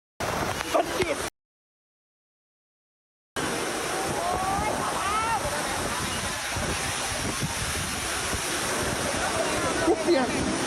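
A heavy, wind-driven rainstorm hits an outdoor graduation rehearsal as a loud, unbroken roar of rain and wind buffeting the microphone. The sound cuts out briefly, and muffled voices can be heard beneath the noise.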